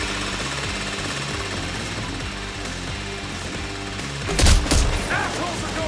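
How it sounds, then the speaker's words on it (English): A heist drill in the video game PayDay 3 grinds with a steady, loud, rhythmic mechanical hammering. A brief burst of gunfire and impacts cuts in near the end. "Drill set up."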